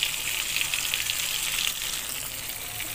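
Prawns frying in hot oil give a dense, steady sizzle that stays close and fairly loud throughout, easing off only slightly toward the end.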